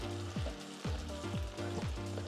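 Meatballs browning in a pan over medium-high heat give a steady, close sizzle, with a low repeating tonal hum running underneath throughout.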